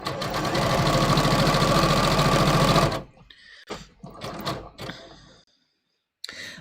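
A sewing machine runs a zigzag stitch through fabric in a fast, steady mechanical chatter for about three seconds, then stops, followed by a few short bursts of handling noise and quiet gaps.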